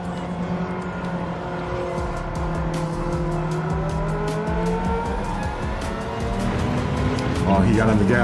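Race cars in Gran Turismo 7 launch off the line together, engines rising in pitch as they accelerate hard and rev higher toward the end, loud and close under steady talk.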